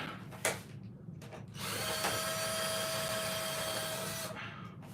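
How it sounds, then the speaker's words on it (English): A couple of clicks and knocks, then a power drill whines steadily on a stuck screw in a Halloween animatronic for about two seconds before stopping, close and fairly quiet. "Let me try some more power drilling"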